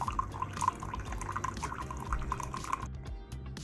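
Milk pours into a glass with a soft, steady trickle and faint splashy drips, quiet and close, fading out near the end.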